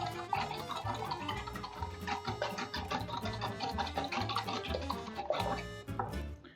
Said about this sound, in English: you're going to take a whisk and you're going to beat together your eggs